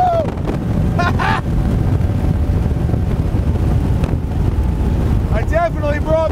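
A 300 HP 2012 Checkmate 24 boat runs at speed, its motor drone buried in heavy wind buffeting the microphone, while voices shout and cheer briefly over the rush.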